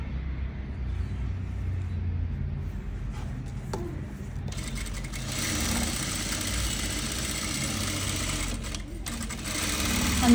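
A sewing machine runs steadily, stitching pin tucks on a kurti; its near, continuous mechanical whir grows somewhat louder and denser partway through.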